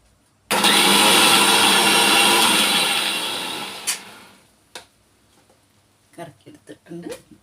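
A kitchen mixer grinder whirs loudly as it blends sweet mango pachadi with curd, running steadily for about three seconds before winding down, followed by a few faint clinks.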